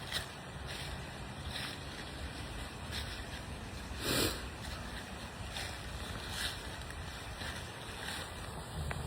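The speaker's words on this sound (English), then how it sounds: "I just love that waterfall. I love listening to it." Steady broadband rushing of falling water, constant and moderately loud, with a few brief crackling bursts and no voices.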